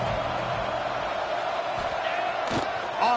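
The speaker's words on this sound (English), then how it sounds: "Guns up, and so is the noise. The crowd electric, trying to help Tech on this 3rd down." Stadium crowd at a college football game roars steadily throughout, a loud, dense wash of cheering during a Texas Tech third-down play, with whoops rising near the end.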